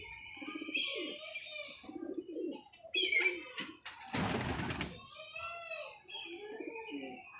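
Home-bred blind line pigeons, a breeding pair's youngster among them, give repeated cooing and soft chirps in a loft, with a short burst of noisy rustling or wing flapping midway, while someone talks over them throughout.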